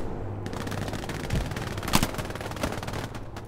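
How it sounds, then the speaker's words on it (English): Rapid bursts of gunfire in the multiplayer World War II shooter Hell Let Loose at Sainte-Mère-Église, dense crackling shots clustered close together with a few sharper, nearer cracks. "Who's shooting me?"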